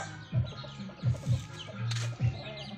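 Backyard chickens, white hens with a few stags left, cluck in several short bursts close by, with one longer drawn-out call near the end and a steady low background hum.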